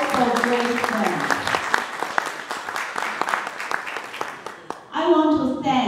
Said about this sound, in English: Let's give Xiaoyan a round of applause